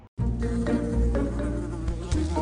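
Steady close buzzing of an insect such as a bee, droning continuously with slight wavering after a short silent start, heard alone.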